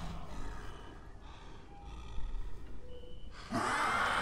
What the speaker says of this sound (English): I got the Donald Trump sniffles. Sniffy sniff.